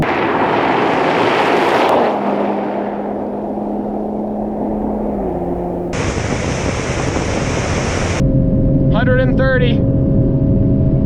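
A Toyota Supra at full throttle on a top-speed run over a clay surface: a steady engine drone with shifting pitch under heavy wind rush, with someone talking over it.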